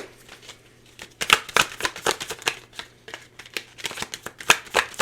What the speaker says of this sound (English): Let me pull you some tarot cards and we'll move from there.